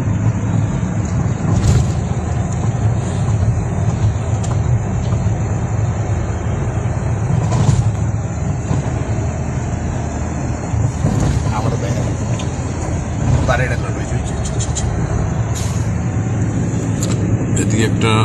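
Traffic rushes along the Mawa highway from Dhaka, a constant loud roar of passing vehicles and wind buffeting the microphone, with occasional sharper horn-like tones on top.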